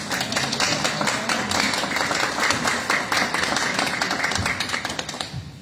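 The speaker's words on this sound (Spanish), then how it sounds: "quien recibimos con un fuerte aplauso." An audience claps at the inauguration of a library in Tlaxcala, many hands producing a dense, steady round of applause that holds evenly for several seconds before thinning slightly.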